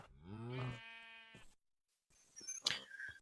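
A Minecraft sheep gives one drawn-out, wavering bleat up close, then a short silence followed by soft clicks and shuffling.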